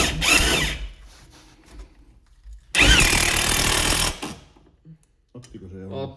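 Two bursts of a power drill boring into a part on a Mazda endurance race car, each running a second or more with a high whine, separated by quieter handling noises and a voice speaking.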